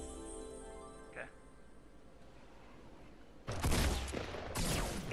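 Bursts of rapid gunfire in a video game, loud and close, break in partway through after a quieter stretch and then come again in a second volley.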